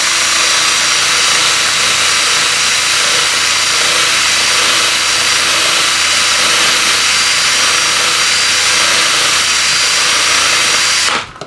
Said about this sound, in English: run the drill